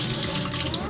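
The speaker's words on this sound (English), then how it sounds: "And a sink with water." Water runs steadily from a tap into a sink inside a chicken coop fitted with repurposed granite countertops, a continuous close hiss and splash lasting the full second with no talking.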